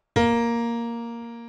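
A single sustained synthesizer tone, bright and harmonically rich, struck sharply then held and slowly fading for over a second, alone and clear.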